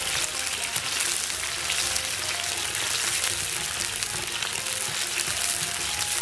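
Chili bean paste and aromatics fry in a large quantity of oil for stewing beef hooves, a steady, dense sizzling crackle that carries on evenly with no talk.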